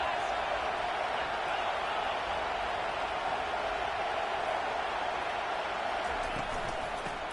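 A football stadium crowd roaring in support of the defense on a big third down, a dense, steady wash of cheering noise that holds at an even level throughout.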